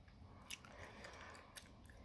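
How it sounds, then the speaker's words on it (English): Soft, wet chewing of gum right at the microphone, a faint steady mouthing with a couple of small clicks over a quiet background, no speech. "Why are you like chewing gum?"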